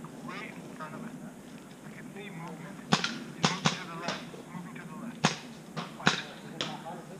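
Paintball markers firing during an outdoor fortress-storming game: several sharp pops, some in quick pairs, heard at moderate distance over steady background noise and faint voices.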